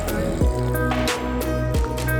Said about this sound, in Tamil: வதக்கி விட்டதுக்கப்புறமா இந்த டிஷ்ஷுக்கு தேவையான தண்ணியை சேர்த்துட்டு